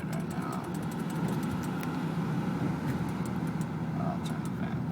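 An Audi A4 1.8T idles at a stop inside the cabin, a faint, steady low engine hum with a fan whooshing softly in the background.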